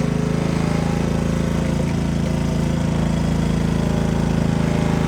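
A Talon GSX150 R2 engine runs steadily and loudly at close range, giving a constant droning hum with a rough, throbbing mechanical edge and no talk.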